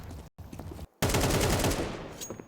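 Pistol gunfire rings out in a CS2 match, with a couple of short bursts followed by a dense run of rapid, loud shots that ends in a fading ring.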